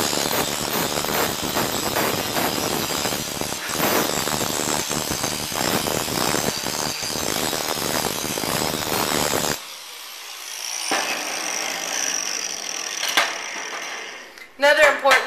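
Angle grinder grinding metal and throwing sparks, a loud, steady broadband rasp that runs for about ten seconds, then drops to a thinner, lighter grind with a few sharp knocks near the end.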